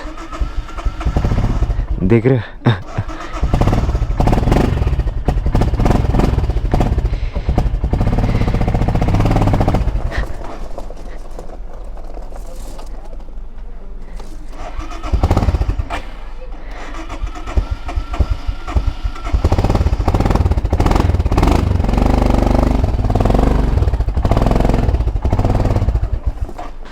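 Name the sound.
motorcycle engine struggling to start in cold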